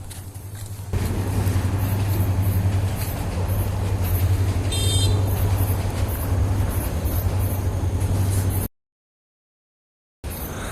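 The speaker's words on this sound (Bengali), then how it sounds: "একটু পরে ট্রেন যাবে, আসতেছে" A train rolls past a village with a loud, steady rumble and a low droning hum, a short horn-like toot midway, then a sudden break into silence before the rumble returns.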